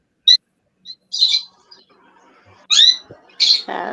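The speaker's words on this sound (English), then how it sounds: "Sorry about my birds, okay?" Pet birds indoors give short, high chirps and tweets in separate bursts, a few quick calls spaced out over several seconds, fairly close and clear with a faint rustle at the end.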